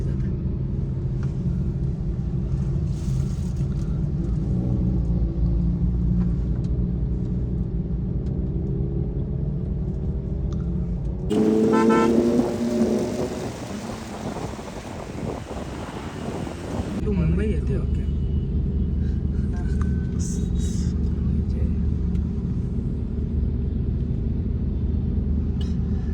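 A Kawasaki ZX10R motorcycle on the road, with a steady engine rumble and heavy wind buffeting throughout and a brief, rougher surge of noise partway through.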